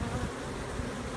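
Honeybees buzzing inside floor joists of a house in Kingwood, Texas, where the colony sits behind insulation, making a dense, continuous droning hum with no voices.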